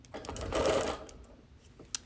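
A sewing machine quilts diamond patterns with green thread along a ruler, a short rapid whirring burst of stitching swelling and fading, followed by quieter handling clicks.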